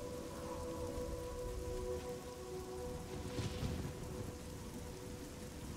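Steady rainfall in the video game Oblivion, a soft continuous hiss of drops with a faint low rumble, even and unbroken throughout with no voices.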